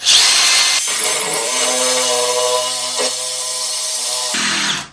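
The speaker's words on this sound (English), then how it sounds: "So here's how you drill porcelain tile." A power drill whines loudly and steadily as it bores into porcelain tile, its pitch dipping briefly midway before it cuts off.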